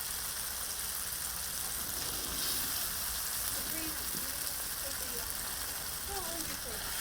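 Fish fillets frying in a pan, a steady dense sizzle like rain on a hard surface that runs through the whole stretch, with a voice talking over it.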